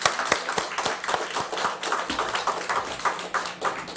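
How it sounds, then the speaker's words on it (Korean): A church congregation claps hands together in blessing, a run of sharp, slightly irregular claps from a modest group, close and steady for a few seconds with no voices. "우리 축복의 박수 한번 드립시다."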